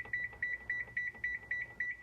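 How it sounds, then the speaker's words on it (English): A kitchen timer set while baking gives eight short, evenly spaced electronic beeps, each a bright doubled chirp, fairly close and clear over a quiet room hum. "timer is going to be set on"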